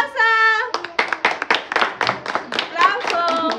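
Family at a surprise party break into brisk, uneven applause, many hands clapping close by, while voices shout and cheer at the start and end.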